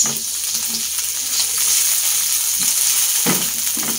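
Chopped tomatoes frying in a hot pan, a steady close sizzle with brief soft stirring scrapes and occasional spatters.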